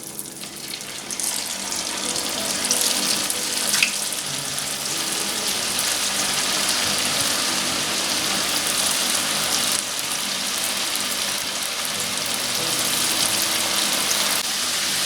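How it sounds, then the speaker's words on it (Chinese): Battered fish deep-frying over high heat in oil at 180 degrees, a steady loud hiss and sizzle that holds unbroken from start to finish with no talk. "油温180度，大火炸。"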